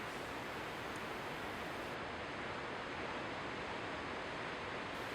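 Ocean surf surges over rocks at Sheffield Beach, Ballito, a steady broadband wash of rushing water heard faintly and continuously without a break.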